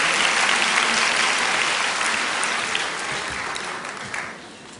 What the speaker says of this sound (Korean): 우리 따뜻한 격려 박수 하겠습니다.